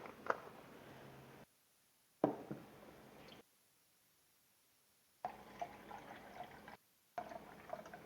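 Beef broth poured into a measuring cup up to the 1.5 cup line, a quiet liquid trickle and splash in short bursts separated by silent pauses.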